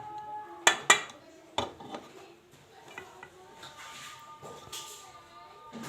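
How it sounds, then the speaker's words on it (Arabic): A spoon scrapes and clinks against a metal pot while cooked rice is ladled onto bread for fatta, two sharp knocks early and then softer shuffling scoops, with speech over it. "ودلوقتي هنحط الرز على وش العيش"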